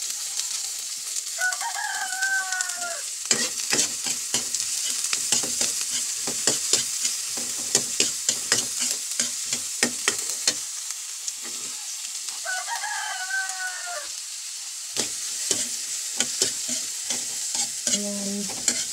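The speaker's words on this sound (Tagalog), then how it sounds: "Isa-gisa lang ito guys." Eggplant, hotdog and corned beef sizzling in a pan, stirred with a series of sharp utensil scrapes and clinks over steady frying noise; a rooster crows twice in the background.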